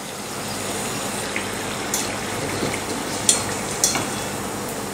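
Spring samosas deep-frying in hot oil give off a steady, even sizzle with a few small pops and crackles scattered through it, close and fairly quiet.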